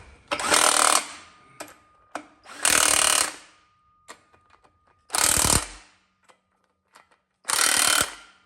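Power tool driving axle bolts tight on a monster truck during axle service, four loud bursts of a few seconds each with short mechanical clicks and pauses between.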